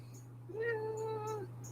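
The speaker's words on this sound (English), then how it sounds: "Oh, he actually talked. He's like, meow, meow, meow." An orange male pet cat named Spam gives a single drawn-out meow lasting about a second, close and clear over a low steady hum.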